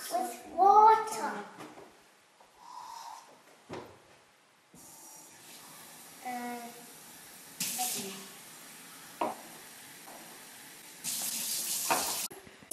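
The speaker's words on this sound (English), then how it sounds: "Let's fill 15 cups with water." Water runs from a household tap into a row of cups, short bursts of pouring and splashing stopping and starting between cups, with a voice and other talk in the room.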